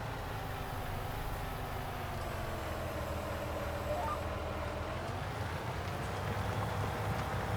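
A Deutz-Fahr tractor working a field in Farming Simulator 19, its engine a steady, moderate drone humming without a break throughout.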